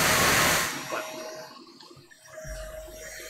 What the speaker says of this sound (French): le bruit de l'aspirateur